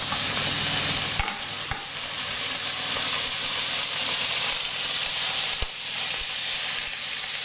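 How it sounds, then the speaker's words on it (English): Beef sizzles loudly as it sears in a hot pan for beef bourguignon, a steady crackling hiss broken by a few sharp clicks as pieces are moved around. "we're gonna pan fry the beef"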